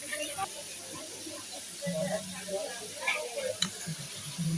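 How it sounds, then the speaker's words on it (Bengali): Potatoes frying and being stirred in fish oil in a pan, a steady soft sizzle with occasional scraping stirs and light clinks, fairly close. "তো এবার আমি আলুও দিয়ে দিয়েছি মাছের তেলে"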